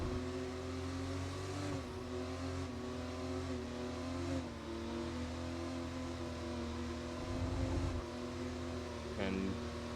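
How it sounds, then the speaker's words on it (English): Formula race car engines in F1 24 at a rainy Australian circuit, holding a steady droning whine with brief stepped drops as they shift down into lower gears behind a safety car, heard beneath commentary. "Cars are slowing down into the lower gears."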